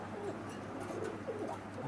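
Pigeons coo softly and steadily, their low murmuring calls repeating over a constant background hum with no one speaking.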